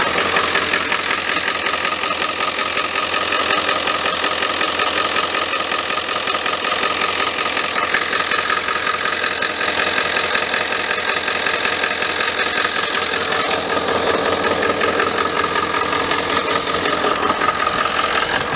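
A 1995 Ford F-350 with a 7.3L diesel engine that has been hard to start runs steadily at idle up close, its knocking clatter continuous and loud throughout with no talk.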